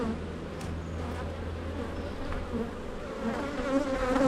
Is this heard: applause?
no